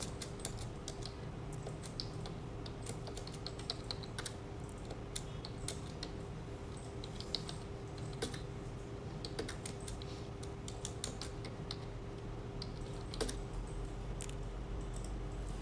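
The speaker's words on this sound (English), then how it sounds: "If you need to change the title, for example, then just type it." A computer keyboard clicks in light, scattered bursts of typing as a page title is entered, faint and close under a steady electrical hum, with no speech.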